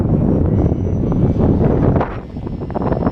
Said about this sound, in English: this thing is not known for being a really fast airplane, but it does obviously go fast when it's coming back with the wind